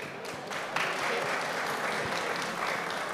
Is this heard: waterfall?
no